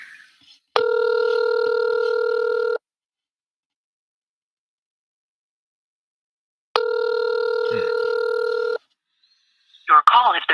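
A telephone call dialed and ringing: two long, loud electronic ring tones separated by silence, followed by a brief voice at the end.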